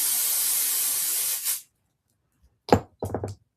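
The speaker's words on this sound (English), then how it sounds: "Let's do one more spray." Grippy non-slip spray hisses steadily onto a quilt for about a second and a half, then stops; a few soft knocks and handling sounds follow after a brief silence.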